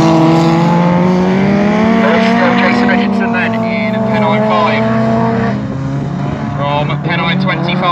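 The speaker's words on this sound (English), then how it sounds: "They're coming back past us once again at the front of the field." Autograss race cars in a class 9 final at Nottingham roar past close by, engines loud and rising and falling as the pack goes by, under continuous commentary.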